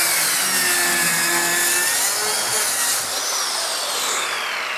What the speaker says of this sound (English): We can just cut this panel right down the middle, and then that side and that side will be the bottom and the middle.